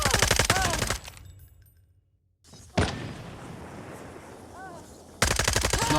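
FSS Hurricane gunfire in the mobile game Call of Duty: rapid automatic bursts sound at the start and end, with a near-silent gap and a rumbling lull between, and game voice callouts mixed in.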